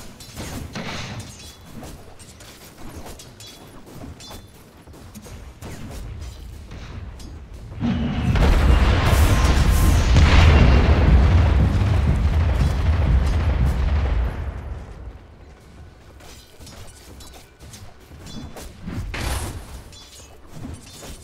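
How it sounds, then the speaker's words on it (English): Booming explosions and battle effects from a tower under attack in a Dota 2 match, a dense loud rumbling stretch in the middle flanked by quieter game sounds, no voices. "Dire's middle tower is under attack."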